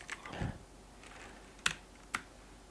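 Keys on a computer keyboard click during HTML coding, with a few soft, scattered taps followed by two sharper, isolated keystrokes in a quiet room.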